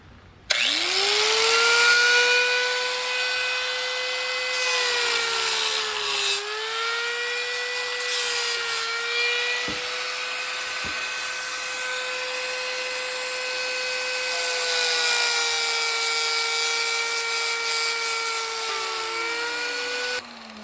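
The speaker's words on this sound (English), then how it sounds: "I'm just going to cut those with the whiz wheel, death wheel, whatever you want to call it" A cutoff wheel slices through heater core tubes on a 1955 Buick Special, giving a loud, steady high-pitched whine that dips briefly as the blade bites the metal, then spins down near the end.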